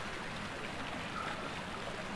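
Soft, steady watery sloshing from a character wading slowly through water in the horror game Amnesia, a quiet continuous trickle with no voices.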